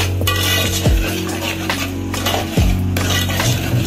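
A spoon stirs chilli powder and salt into thick tomato thokku in a pan, with two sharp metallic clinks against the pan between soft scraping. Fairly close and steady, with no talk.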